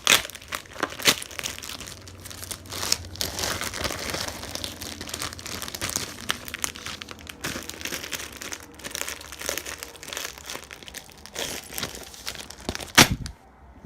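A small plastic bag holding JDM fasteners is torn open and handled, giving a close, continuous crinkling and crackling with a few sharper snaps near the end.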